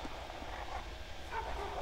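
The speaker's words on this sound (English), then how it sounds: "There's the barking dog." A dog barks in the video game Silent Hill: Homecoming, set in the town of Shepherd's Glen, a few muffled yips and barks at a distance under a low ambient drone.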